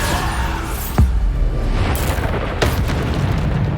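Bombarda explosion spells in Hogwarts Legacy go off as sharp booms, about three blasts in quick succession over an ongoing rumbling battle backdrop, loud and close.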